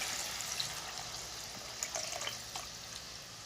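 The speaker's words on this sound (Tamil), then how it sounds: "நான் 1 செம்பு தண்ணி ஊற்றுறேன்" About half a litre of water poured into a cooking pot of drumstick leaves for soup, a continuous close splashing gurgle of liquid lasting a few seconds with no talking.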